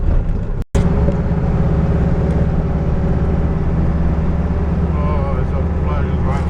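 A Toyota Tundra truck drives along with a loud, steady, low engine drone and road rumble, cut by one brief dropout near the start.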